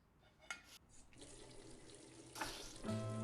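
Water runs steadily from a tap into a sink in a scene from a French-dubbed Turkish drama series, a continuous close splashing flow that grows fuller and louder toward the end, with no talk over it.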